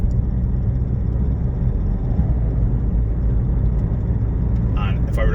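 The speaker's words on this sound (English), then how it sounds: "So you can hear that grumble now, and I'm feeling it through the steering wheel ever so slightly at the front wheel." Steady low road rumble and grumble from the front wheel of a 2013 Ford Kuga 2.0 TDCi while driving, continuous and fairly loud throughout with no other sounds standing out.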